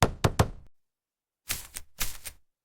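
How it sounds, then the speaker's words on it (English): Hammer knocks in a garage setting come in two short bursts of rapid, close raps separated by silence, loud and sharp. "I use a hammer."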